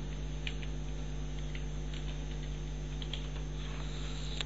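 Typing on a computer keyboard: soft scattered key clicks over a constant low electrical hum, faint and close, with no talk.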